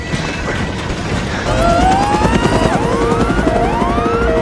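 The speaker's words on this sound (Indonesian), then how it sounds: "Emma dan Ray tidak berjalan mulus karena mesin helikopter sempat terkena puing-puing saat menyelamatkan Emma tadi." A loud, steady mechanical roar like a helicopter engine damaged by debris, with rising siren-like whines and clattering layered over it, close and continuous.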